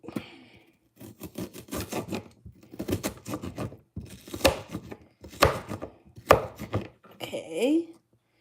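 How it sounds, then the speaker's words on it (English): Onions chopped with a knife on a cutting board in a home kitchen while cooking meatloaf, heard as rapid, crisp blade strikes in several close, loud bursts separated by short pauses, with a faint vocal sound near the end. "I'm just gonna chop some onions here."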